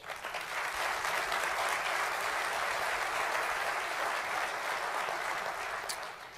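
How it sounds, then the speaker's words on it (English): A conference audience of professionals gives a sustained round of applause, even and continuous from start to finish and fading slightly at the close, with no voices. "You all deserve a round of applause."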